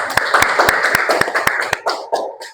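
Students in a chemistry classroom clap together in a brief burst, a regular, fairly quick rhythm of sharp close claps that grows looser and thins out before stopping.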